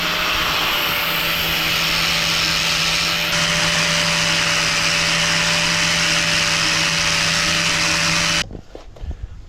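An angle grinder grinds rust off the steel water tank of a narrowboat, a loud steady high whine with a constant tone that cuts off sharply near the end, leaving quieter clatter.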